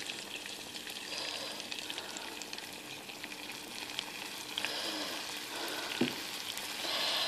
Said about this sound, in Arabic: لما تذوب الزبده تاعي نضيف لها ملعقتين من الدقيق